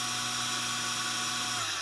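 A stock Delta 1x30 belt sander motor running at about 1700 RPM, a steady close whine with a constant hum beneath it and no pauses.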